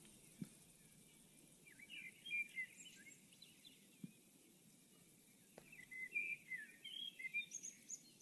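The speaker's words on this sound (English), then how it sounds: "How am I versus the birds?" Birds chirping outdoors, scattered faint, distant high tweets and short calls in a few loose bursts over a quiet background with occasional soft thumps.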